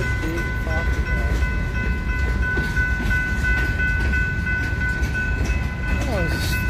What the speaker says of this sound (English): Oh, this stupid train.